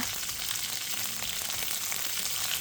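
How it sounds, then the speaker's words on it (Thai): Shrimp frying in oil in a pan, a steady close sizzle and crackle that holds evenly throughout with no voices. "เอากุ้งมาจี่กับน้ำมันให้มีกลิ่นหอม"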